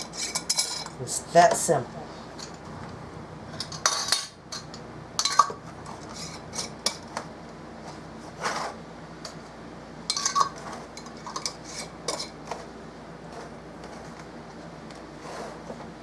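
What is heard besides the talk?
screwing bands finger tight onto canning jars of turnips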